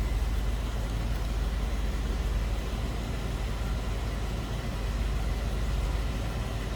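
A steady, low exhaust rumble from a 1970 Ford Thunderbird runs continuously, idling close by, with no talking.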